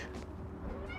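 A cat meows a couple of times nearby, the calls fairly soft over a steady low room hum.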